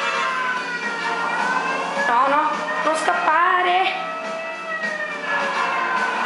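A police siren wails continuously through a chase in a video game, its rising and falling tone steady and prominent while a person talks excitedly over it.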